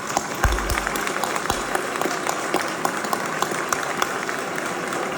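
An audience at the inauguration of the Grand Palais in Paris applauds, a broad continuous clatter of many hands clapping with a few low thumps early on, steady and full throughout.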